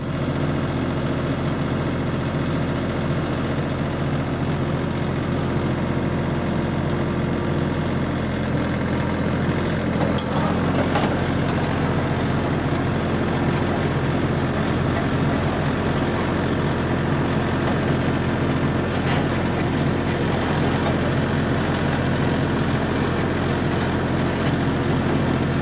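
Steady engine of a vehicle towing a farm trailer ride, a constant low rumbling drone held evenly throughout with no voices.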